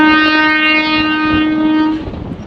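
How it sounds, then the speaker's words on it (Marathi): A long train with many coaches passes close by, sounding a loud, sustained horn blast for about two seconds that then cuts off into rumbling rail noise, with no voices. "हे बघा आता जस्ट रेल्वे आलेली"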